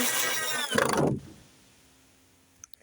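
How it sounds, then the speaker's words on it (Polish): A cordless drill drives screws into wood while building a rabbit hutch. There is a close, loud motor whine for about a second that winds down as the screw seats, then a quiet pause and a couple of faint knocks. "Ja idę po wkrętarkę i po wkręty."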